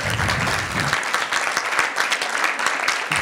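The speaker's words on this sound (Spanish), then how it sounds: "yo creo que tres museos se merecen un aplauso solamente" An audience applauds at the closing of a Mexican cycling congress, a dense, even burst of clapping from many hands, loud and close, with a brief voice at the start.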